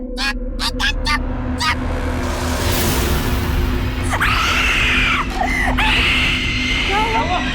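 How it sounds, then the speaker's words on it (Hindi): A parrot screeches in shrill, harsh bursts, a few loud calls close by over a steady household hum, with voices speaking in the background. "ये तोता इतना चिल्ला क्यों रहा है?"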